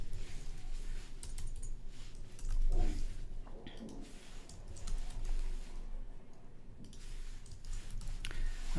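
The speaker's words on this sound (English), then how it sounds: "type in your answers" Typing on a computer keyboard while entering answers into a Google Forms quiz: scattered, irregular key clicks over a steady background hum, with no talking.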